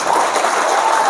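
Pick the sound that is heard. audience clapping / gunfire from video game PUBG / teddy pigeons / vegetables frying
audience clapping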